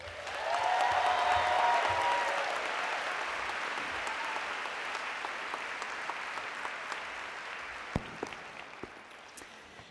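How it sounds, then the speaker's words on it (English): Graduates at a spring convocation applaud and cheer, a dense crowd roar that swells loud early and then slowly tapers over several seconds, with scattered claps lingering at the end. "give yourselves a big cheer because you're just beginning"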